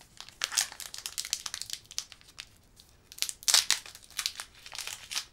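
Foil wrappers of Pokémon trading card booster packs crinkle and tear close by in quick bursts, with a louder crumpling flurry in the middle and quieter rustles between.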